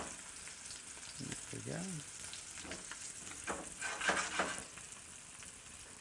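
Fish frying in butter and oil in a pan gives a soft, steady sizzle close by, with a short spoken remark partway through and a few light utensil touches.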